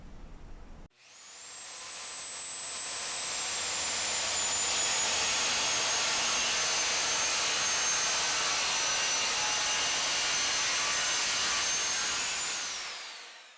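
Circular saw fitted with a Diablo Demon framing/demolition blade spins up and cuts through a butcher block countertop, a loud sustained high whine with a steady cutting roar, then winds down as the cut finishes.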